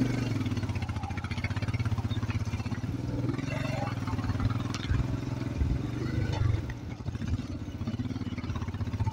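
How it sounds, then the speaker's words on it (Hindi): A motorbike climbs a rough, steep jungle foot trail toward the Nag Tibba base camp, its engine droning steadily and close with clattering over bumps, while voices talk on and off over it. "इसके ऊपर हम बस बाइक लेकर के आ रहे हैं।"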